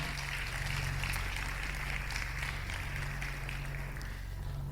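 Church audience clapping in praise during a Spanish-language sermon, a fairly quiet, continuous patter of applause held evenly throughout over a low steady hum.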